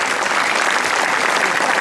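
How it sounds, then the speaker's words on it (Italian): Dense, even applause from an audience at an outdoor folk music festival with choirs in Sardinia, a continuous wash of clapping throughout the short stretch. "Un applauso anche a loro."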